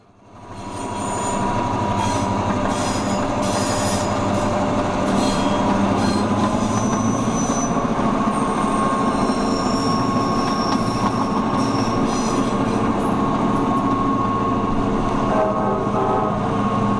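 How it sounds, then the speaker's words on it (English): A Gorge excursion train hauled by F unit diesel locomotives rolls past close by, a loud, steady rumble of wheels and engines with high squealing from the wheels on the rails, and no talking. "timed to pace the F units that were pulling the Gorge train that day"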